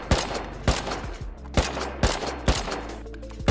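Rapid gunfire in the survival game Rust, evenly spaced sharp shots about every half second with booming low tails, loud and close with no talk over it.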